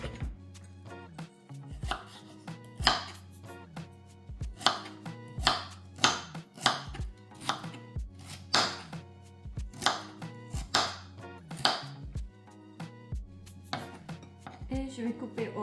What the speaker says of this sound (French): Maintenant, je vais couper la carotte en petites cubes.